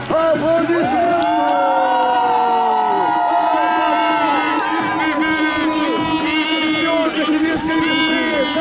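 Crowd cheering at the finish of a ski race in Kirovsk, loud continuous shouts and whoops with excited voices layered over one another, and a voice speaking above the noise.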